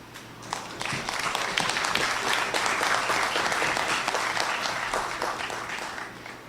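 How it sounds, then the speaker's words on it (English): Sustained audience applause fills a Ministry of Planning presentation in Trinidad, dense clapping from a roomful of people swelling in the middle and tapering toward the end, with no speech over it. "I want you to give a big round of applause to my staff"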